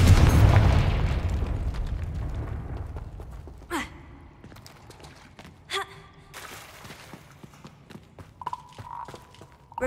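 A Confringo blasting spell from Hogwarts Legacy goes off with a loud low boom that rolls and fades over several seconds. Sharper magical zaps and chimes follow later, with no talking.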